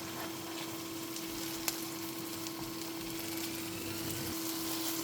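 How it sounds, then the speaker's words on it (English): Tomato puree simmering in a pan, a steady low sizzle and bubbling that holds evenly throughout, close and fairly quiet, with a faint steady hum behind it. "Allow it to simmer for like 30 seconds."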